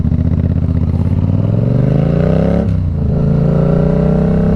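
Yamaha MT-07 motorcycle ridden on a coffee run, its engine loud and close with a rising drone under acceleration, a brief dip as it shifts gear, then climbing again.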